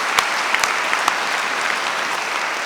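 A large audience at a festival forum applauds steadily and fairly close, a dense wash of clapping with a few sharper individual claps standing out, and no speech over it.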